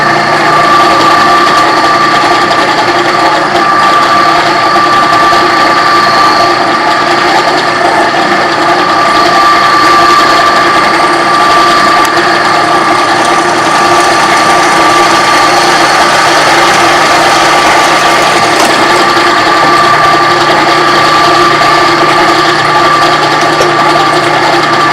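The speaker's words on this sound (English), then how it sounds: "we're going to run a 15/64 pilot hole through there" A drill runs continuously boring a 15/64 pilot hole through a Piper Cub lower door part, a steady whirring grind with ratcheting mechanical texture throughout.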